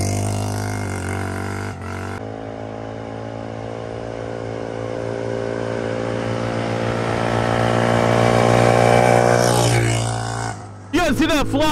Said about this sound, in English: You guys see that flyby? 80 miles an hour.